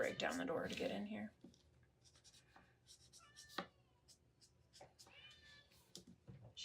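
A house cat meows repeatedly at a closed door, with light scratching between the cries. A loud burst at the start gives way to quieter, intermittent meows, and a person talks over part of it.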